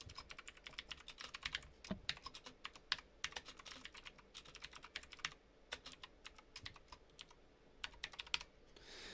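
A computer keyboard is typed on during a game tournament stream, close rapid clicky keystrokes rattling in irregular bursts over a low room hum, with no talk.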